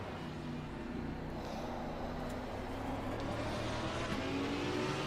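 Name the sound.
racing car engines in a driving sim video game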